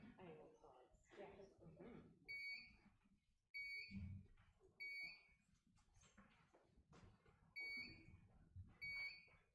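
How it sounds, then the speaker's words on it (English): A smoke alarm falsely triggered by a heater in a board meeting room chirps in short, repeated high-pitched beeps at regular intervals, while people talk underneath. "The false alarm is just because of the heater."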